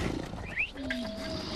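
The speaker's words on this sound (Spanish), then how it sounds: "No, es un león." A lion in the video game Far Cry Primal lets out one deep, drawn-out roar over a steady ambient background of wild animal sound.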